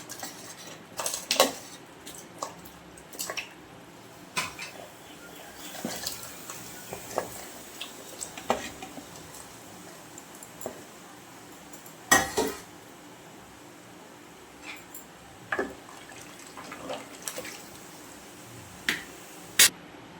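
Chopped elephant foot yam pieces drop into a pot of water, making scattered sharp knocks and clinks against the pot at irregular intervals over a quiet kitchen background, with no speech.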